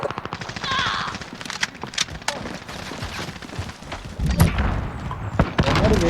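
Rapid automatic gunfire in a Call of Duty multiplayer match, with sharp repeated bursts and single shots crackling over a busy game soundscape, close and loud throughout.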